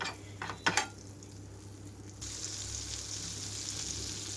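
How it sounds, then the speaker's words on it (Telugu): Butter and oil being swirled around a pan for frying bread slices: a brief clatter of utensil hits, then a soft, steady sizzle rising and continuing to the end. "బటర్ ఆయిల్ మొత్తం కూడా పాన్ అంతా వచ్చేలాగా కలుపుతున్నాను"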